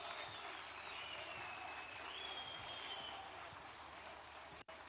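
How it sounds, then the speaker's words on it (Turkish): Steady crowd applause at the unveiling of two Turkish domestic car prototypes in the presence of the president, a dense, even roar of clapping that continues throughout, cut by a brief dropout near the end. "Büyük alkışlarla lütfen."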